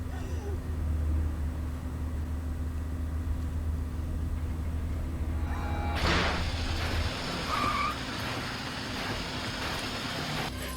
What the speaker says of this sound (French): Il va la poursuivre en voiture.